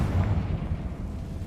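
A Confringo blasting spell explodes in a Hogwarts wizarding video game, a loud rumbling blast with a deep low boom that fades over about a second and a half.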